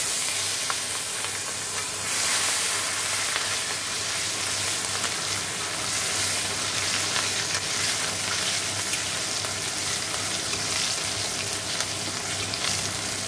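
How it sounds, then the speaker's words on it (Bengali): Cumin seeds and dried red chilies sizzle in hot oil with a continuous, close, crackling hiss that stays even throughout. "আমি জিরে শুকনো লঙ্কা ফোড়ন দিয়ে দিয়েছি।"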